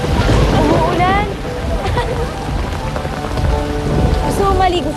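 Steady, heavy rain falls loudly and close, a dense hiss of drops on surfaces that runs unbroken, with voices talking over it.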